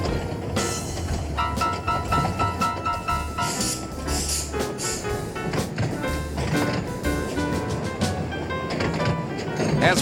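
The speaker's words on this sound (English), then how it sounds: "The train continues on its 40-minute 7-mile journey through the English countryside" A heritage train in the English Lake District rumbles along steadily toward Eskdale-Dalegarth station, with rhythmic clicking and clacking of wheels on rails, loud and close throughout.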